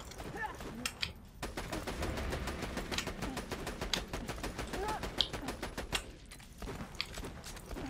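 Rapid gunfire from Borderlands 2, a dense run of quick, fairly loud shots spread across the whole stretch with brief pauses, while players chat over it.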